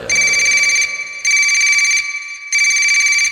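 A telephone rings in three loud, even electronic bursts separated by short gaps, close and clear with no talking.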